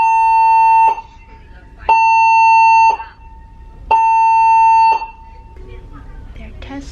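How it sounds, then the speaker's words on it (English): A ship's general emergency alarm, tested on a cruise ship before sailing, sounds loud and close in three sustained blasts of about a second each, separated by short gaps, with a lower reverberant hum between them. "They're testing the emergency. General emergency alarm sounded."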